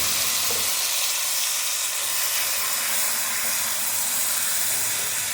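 Boiled white mash daal tipped into a hot frying pan with crushed chillies, giving a loud, steady, continuous sizzle that fills the whole clip.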